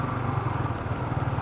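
Motorcycle engine running steadily at close range while riding through the side gate of a church in Floridablanca, a low throbbing drone held at even loudness throughout.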